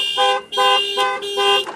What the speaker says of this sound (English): there you can hear the alarm popping off as well